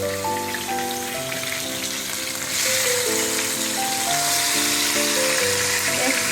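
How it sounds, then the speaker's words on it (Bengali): A large Katla fish fries in a pan after being flipped, a steady loud sizzle crackling under soft background music. "এখন আমি মাছটাকে উল্টাই দেব।"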